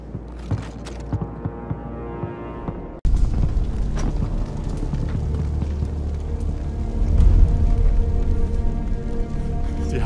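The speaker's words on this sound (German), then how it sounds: "Die haben die Brücke gesprengt." A bridge blown up in Battlefield V erupts as a sudden heavy explosion after a few seconds of quieter rumble, then a long roaring, rumbling aftermath that swells further along.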